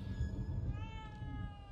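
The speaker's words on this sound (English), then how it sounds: "Oh, hello. Hello, kitty." A cat meows in the horror video game The Evil Within 2, one drawn-out mew heard close over a low background hum and steady tonal music.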